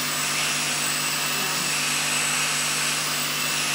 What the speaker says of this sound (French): Vas-y, on aspire un peu parce que on aspire.